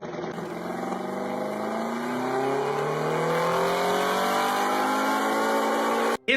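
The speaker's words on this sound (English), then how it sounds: "The clip that you guys just watched shows this guy messing around with the diesel engine." A diesel engine revs out of control, its pitch climbing steadily into a sustained loud roar for several seconds before cutting off abruptly at the end.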